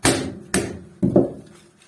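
Three sharp hammer blows knock ferrite magnets off the deflection coil of a CRT television, each close, loud impact followed by a short rattling decay, with no talking.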